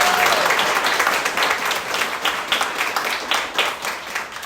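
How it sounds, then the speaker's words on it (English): Audience at a hospital opening press conference applauding, a dense burst of clapping that starts strong and gradually thins out over a few seconds. "And give them a round of applause as well."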